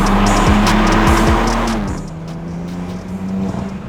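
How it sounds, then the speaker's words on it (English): A 2018 BMW M4 F82 in sport mode sends out a loud, close exhaust note with rising and falling revs. Tire squeal and a race-car edge come through, then the note settles into a steadier drone. Nobody speaks. "So immediately you hear more exhaust."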